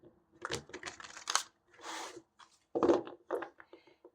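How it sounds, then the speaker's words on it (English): Tarot cards are shuffled by hand, giving a string of short, crisp riffling and rubbing bursts with gaps between them, close and quiet, and no voices. "I'm going to shuffle 3 times."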